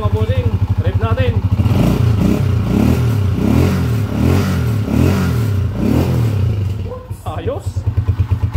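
A Yamaha SR125 motorcycle engine runs close by and is revved in repeated rising-and-falling pulses over a lumpy idle, with brief talk at the start and end.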